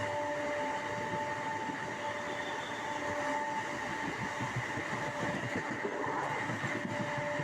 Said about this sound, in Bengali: এখন আমাদের ট্রেন পলতা স্টেশনে স্কিপ করছে